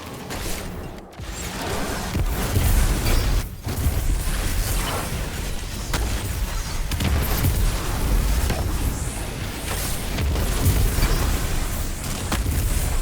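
Grenade blasts in the shooter game Destiny 2, a dense run of booming detonations and crackling mechanical effects piling up continuously over about thirteen seconds, loud throughout with brief dips between bursts.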